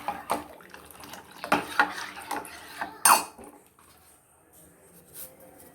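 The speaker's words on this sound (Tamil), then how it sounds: "நல்லா கொதித்து வர வரைக்கும் அப்படியே கிண்டிகிட்டே இருக்கும்" A metal ladle scrapes and clinks against a pot of coconut milk and cow's milk kozhukattai in irregular bursts, close and fairly loud, then fading to quiet kitchen background.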